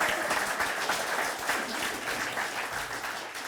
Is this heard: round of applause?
yes